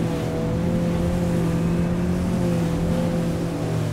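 A Yellowfin 5800 boat's outboard motor drones loud and steady as the hull runs tight circles over waves, a continuous close engine note with no talk.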